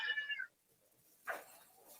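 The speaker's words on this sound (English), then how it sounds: "I'm adding cat sound effects" A cat meows as an added sound effect, two short bright calls separated by a gap of quiet, moderately close and with no talking over them.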